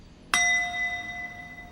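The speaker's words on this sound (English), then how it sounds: "But it is a ding on the death bell." A single bright bell ding from the death bell in the video game Dark Souls 2, struck sharply once and then ringing out with a sustained metallic tone that slowly fades, heard alone.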